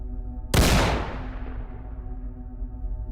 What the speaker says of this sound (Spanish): le solté un disparo con mi escopeta